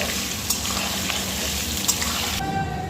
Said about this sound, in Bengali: আলুগুলো আগে ভেজে নেওয়া হোক